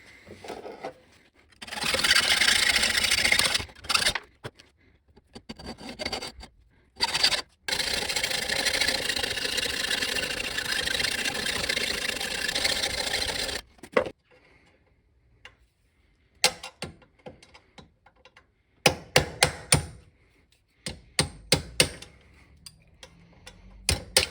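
Seized nuts on a hot tub heater element being cut off with a power cutting tool: long sustained grinding bursts with broadband rasp, then a quieter stretch of short scraping and tapping clicks.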